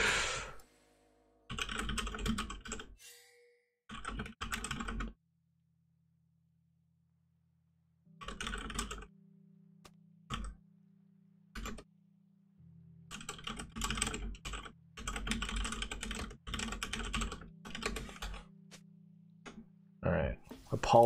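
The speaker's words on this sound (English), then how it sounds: "I'm typing to someone" Typing on a computer keyboard during a League of Legends session, with several bursts of rapid close key clatter separated by pauses, and quiet stretches in between.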